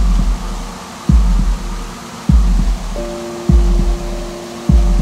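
A slow, steady heartbeat with deep low thumps recurring about every 1.2 seconds, accompanied by a soft sustained hum that enters midway through, used in a heart-healing meditation.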